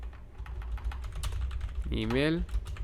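Computer keyboard typed on while writing code, quick close key clicks in an uneven patter, with a voice speaking briefly over them.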